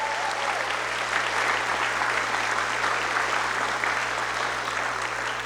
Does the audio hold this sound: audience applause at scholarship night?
yes